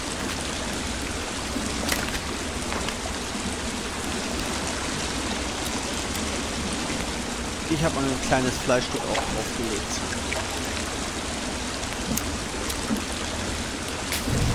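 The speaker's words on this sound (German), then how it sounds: "Ich finde, der Wasserfall ist richtig laut." A steady, loud rush of falling water from a waterfall in a video game fills the scene, with people talking quietly over it.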